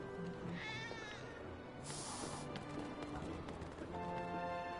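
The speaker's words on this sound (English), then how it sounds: "I'm trying to get a cat to come out." A stray cat meows in the video game Final Fantasy VII Remake, a few short, clear meows over soft game ambience and music.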